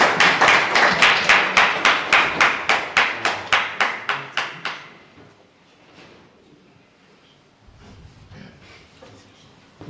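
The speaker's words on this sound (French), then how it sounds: "Allez, applaudissons pour Papa Christian." Slow, rhythmic clapping from an audience at a political gathering in Paris honours Papa Christian, about twenty evenly spaced claps that taper off and give way to quiet room sounds and faint voices.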